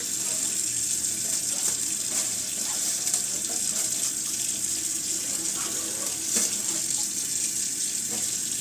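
Guitar strings being rinsed under a running tap, a steady close hiss of flowing water that continues for several seconds with no talking.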